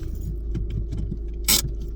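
A car pulls up outside a house, heard from inside: a low, steady engine rumble with faint rattles, then a brief, bright jingle near the end.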